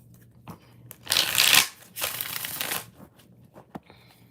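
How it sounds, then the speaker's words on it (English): Tarot cards shuffled by hand in two close, crisp riffling bursts, each lasting about a second, followed by a few soft taps as the deck settles. "Three more shuffles."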